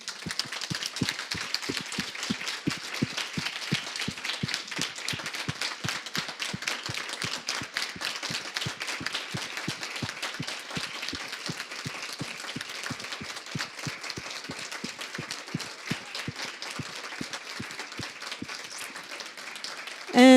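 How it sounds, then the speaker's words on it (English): A summit audience at a business leadership event claps for a long stretch, with many separate hand claps forming a steady, fairly quiet and even patter that continues throughout. "So ladies, I applaud you."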